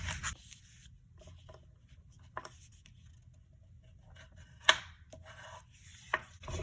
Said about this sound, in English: I'm going to make the remaining panel into a mountain fold like this